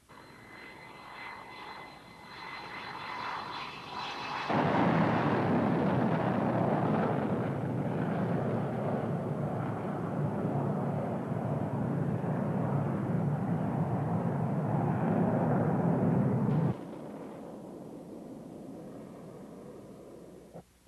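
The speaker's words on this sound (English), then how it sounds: "two patrolling Tomcats were sent to intercept" An F-14 Tomcat jet roars past, a faint whine swelling abruptly into a loud, broad engine rumble that holds for about twelve seconds before cutting back to a softer drone.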